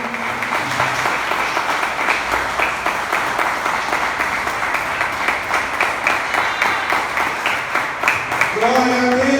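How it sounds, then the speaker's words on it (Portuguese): A church congregation applauds steadily throughout, a dense wash of clapping that continues evenly, with faint voices and a brief musical tone near the end. "Você pode aplaudir o Senhor Jesus."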